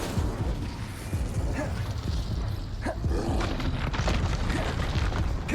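Incendio fire spell cast in the Hogwarts Legacy video game, heard as a dense, continuous roaring whoosh with low booming pops scattered through it, loud and sustained throughout.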